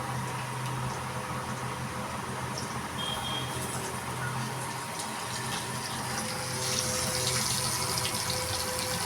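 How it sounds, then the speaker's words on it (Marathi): Bangda (mackerel) and surmai (kingfish) fish frying in hot oil, giving a steady, close, hissing sizzle that holds at an even level throughout, with no talking. "आता तेल गरम झालंय आता मी मच्छी तेलामध्ये सोडते"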